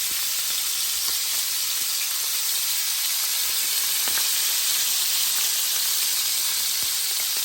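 Pork chop sears in a hot pan with a steady, bright sizzle and hiss, close and continuous, with a few small pops.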